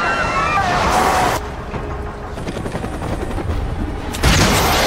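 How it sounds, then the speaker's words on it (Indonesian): Loud battle scene with a helicopter hit by an RPG, with bursts of gunfire and explosions over a steady rotor roar and some shouting voices mixed in. "Nick berhasil menyelamatkan Saju dengan menjatuhkan helikopter India menggunakan RPG-nya"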